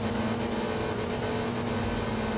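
A car engine in Enthusia Professional Racing drones at high, steady revs against the rev limiter, a loud, sustained buzzing hum with no speech.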